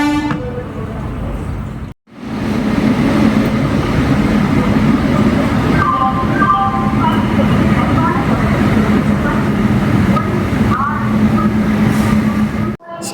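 Passenger train on the Mangaluru to Chennai route rolling loudly and steadily, with a brief dropout near the start and horn-like tones sounding over the continuous rumble and clatter of the rail cars.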